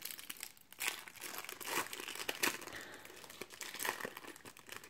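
A Panini World Cup Road to Russia 2018 sticker packet is torn open and handled. It gives close, bursty crinkling and crackling of foil-like wrapper in irregular flurries throughout, with no speech.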